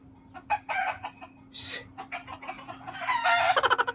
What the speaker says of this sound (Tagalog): kasi napakaingay ng mga manok